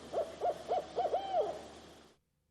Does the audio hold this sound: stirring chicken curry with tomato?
no